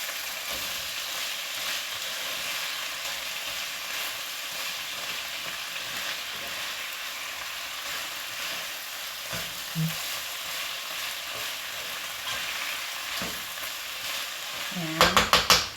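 Pork frying in a pan while being stirred, a steady loud sizzle with occasional scrapes, ending in a few clattering knocks of the utensil against the pan.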